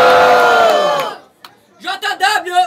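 A crowd at an outdoor freestyle rap battle in Foz do Iguaçu roars loudly and then fades, and after a short pause it breaks into rhythmic, chanting bursts of cheering.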